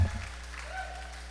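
Crowd applause after a rally at a professional Major League Pickleball night event in Austin, Texas, a brief steady wash of clapping at moderate level.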